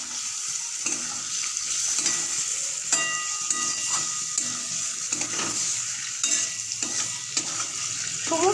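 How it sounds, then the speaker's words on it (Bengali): Boiled potato and papaya chunks are stirred with spices in oil in a pan for a soya chunk dish. A continuous hiss of sizzling runs under repeated scraping strokes of a spatula, close and steady. "সমস্ত মশলার সাথে আলু পেঁপেটাকে নেড়ে নিচ্ছি।"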